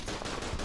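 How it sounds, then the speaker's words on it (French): Machine gun fire in a WWI shooter game set at Verdun and Argonne, a short loud burst of rapid automatic shots with a heavy low thump, no speech. "Ils ont une MG qui couvre toute la gauche en fait"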